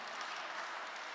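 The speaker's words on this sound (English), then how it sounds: "I think you deserve a round of applause." Brief, steady wash of crowd applause from a live concert audience at a tribute show, soft and distant-sounding.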